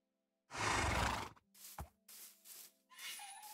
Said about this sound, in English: We got some horses over here.